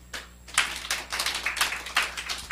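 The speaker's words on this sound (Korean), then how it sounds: "박수 한번 하세요" Scattered applause from a small church audience, uneven claps building into a loose, steady patter nearby, heard alone without speech.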